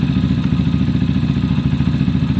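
A Zontes motorcycle engine, its idle problem fixed, runs close by with a loud, steady, even-pulsed thumping idle throughout.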